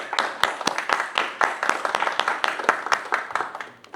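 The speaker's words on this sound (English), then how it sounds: "I also want to give a round of applause to the organizers as well." Audience applause for the organizers at a crypto talk on Solana, a modest round of distinct claps from a smallish crowd, individual hand claps clearly separated and tapering off at the end.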